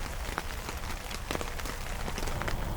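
Rain at a campsite during a thunderstorm, a dense, even patter of drops on a surface with scattered sharper hits, close and steady throughout, with no talking.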